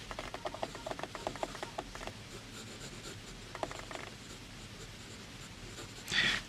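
Aurora 88 fountain pen nib scratching across paper in a quiet room, a run of short close strokes that pause midway and then resume, with one louder scrape right at the end.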